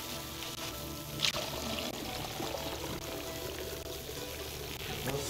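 In the It Takes Two video game, a urinal plant sprays a continuous hissing stream of water with a brief splashy burst near the start, then a steady, moderately loud rush.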